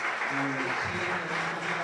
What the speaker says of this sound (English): Well, a big round of applause.